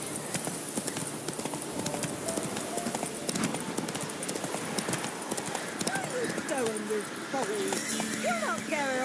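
Horse hooves clip-clop steadily at a trot in The Witcher video game, close and rhythmic, with occasional snorts and whinnies and a voice speaking over them.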